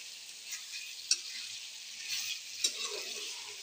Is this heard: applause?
no